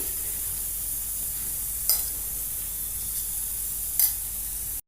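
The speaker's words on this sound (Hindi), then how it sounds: "अब मैं यहाँ पर लूँगी ये मिक्सी का जार, और इस दाल को मैं इस पे डाल के पीस लूँगी" A mixer grinder jar whirs continuously as it grinds soaked moong dal, a steady, hissing roar with two brief sharper surges, ending abruptly when the motor cuts off.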